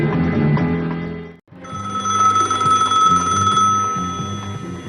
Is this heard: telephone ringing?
yes